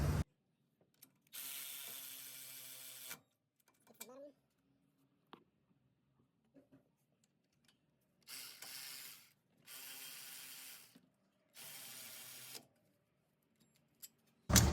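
A ratchet tightens a brake caliper bolt on a Ford Expedition during a front brake job: several bursts of rapid, close clicking separated by pauses, with occasional faint clanks.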